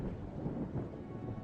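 Thunder rolls under heavy pouring rain in a story game: a dense, steady rumble and downpour fill the whole short stretch, fairly loud, with no voices.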